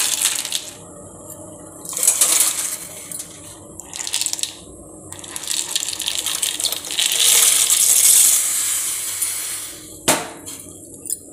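Dry macaroni pasta clatters and rattles into a pot of boiling water in several bursts, with a rushing, bubbling wash of water between them.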